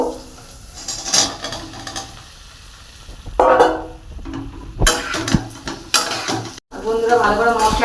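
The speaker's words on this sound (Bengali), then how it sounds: "আমি কষিয়ে নেবো আলুর সাথে" Potatoes fried in a pan with spice masala for a prawn and potato curry, stirred with a utensil that scrapes and clinks against the pan over a steady sizzle, with short bursts of louder stirring.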